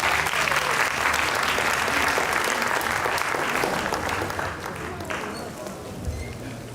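A large audience claps at a sickle cell foundation event, a long dense round of applause with cheering voices mixed in, loud at first and easing slightly toward the end.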